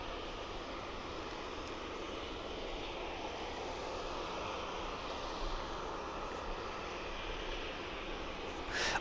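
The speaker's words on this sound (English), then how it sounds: "you should see our next aircraft coming in" A fixed-wing aircraft approaching to land at East Midlands Airport at night, heard as a steady, sustained broadband engine roar that stays fairly constant throughout and swells slightly at the very end, with no talking.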